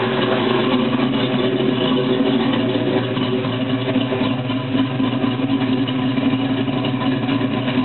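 An LS-swapped Chevrolet Malibu with a 2.5-inch exhaust idles steadily, a loud, close, continuous low rumble with a slight lope and no talking over it.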